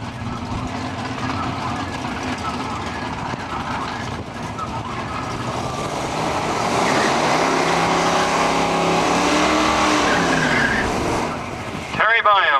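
Nostalgia drag racing cars roar as they launch at Cayuga, Ontario, engines building to a loud sustained howl with tire squeal, and an announcer's voice over the noise.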